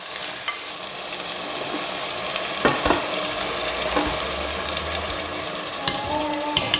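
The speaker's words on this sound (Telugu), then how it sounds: "వేసుకున్నాక ఒకసారి కలుపుకొని దాంట్లో ఆయిల్ అంతా ఈ మటన్ పీసెస్ అనేది అబ్జార్బ్ చేసుకోవాలన్నమాట" Mutton pieces fry in oil in a pot while being stirred for a pot-style curry. A dense, close sizzle continues throughout, broken by periodic scraping and clinking strokes of the spoon. No one speaks.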